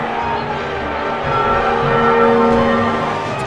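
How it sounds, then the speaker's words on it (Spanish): Church bells peal in full swing, loud overlapping ringing tones blending into a sustained, shimmering wash that swells slightly midway, with no voices. "del repique a vuelo de las campanas,"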